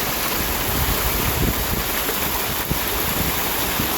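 Small waterfall at a rugged rock-shelter spot on a hiking trail at Frozen Head State Park in eastern Tennessee, a steady, close, full-bodied rush of falling water with no voices.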